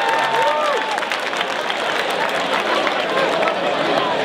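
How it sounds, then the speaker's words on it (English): A boxing-match crowd applauds and cheers in a dense, sustained wash of clapping and voices filling a hall, with an announcer's amplified voice over the top. "round of applause once again for a fantastic contest once again"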